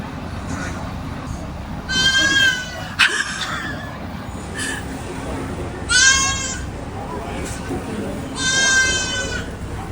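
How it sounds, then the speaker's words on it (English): Goats bleat three times in wavering calls spaced a few seconds apart, over steady outdoor background noise with faint voices. "let's go check on your goats."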